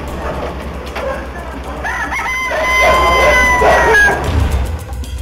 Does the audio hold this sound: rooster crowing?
yes